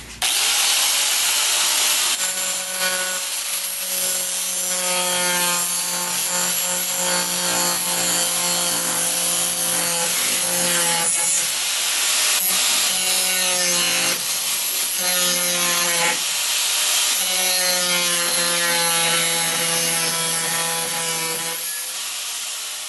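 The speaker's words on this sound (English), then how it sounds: "Just did that with the cutoff wheel" A cutoff wheel grinds through an old saw blade to rough out a knife shape, a loud continuous whining screech that rises and falls in pitch over repeated passes, with no talking.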